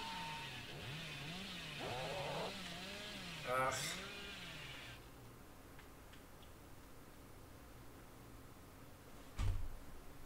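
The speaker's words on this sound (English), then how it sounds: "Give me a free chainsaw" Chainsaw revving in a video game, its wavering engine pitch rising and falling in quick cycles before cutting out, followed by quieter game noise and a sharp thump near the end.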